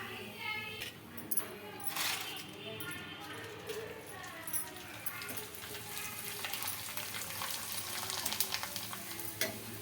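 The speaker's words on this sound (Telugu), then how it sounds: "చూడండి ఎంత బాగా ఫ్రై అవుతున్నాయో" Ragi papad (vadiyalu) frying in hot oil: a steady, close bubbling sizzle with crackling bursts and a few sharp pops, continuing throughout while a voice talks over it.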